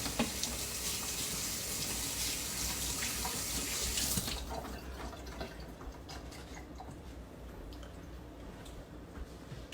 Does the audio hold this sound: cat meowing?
no